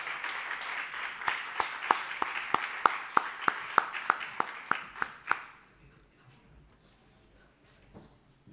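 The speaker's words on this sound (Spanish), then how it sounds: "vamos a recibirlo con un aplauso" Small audience at a rural talk on climate change clapping to welcome a meteorologist, a rhythmic series of about a dozen crisp, evenly spaced claps that stops abruptly, leaving a quiet room with faint rustling.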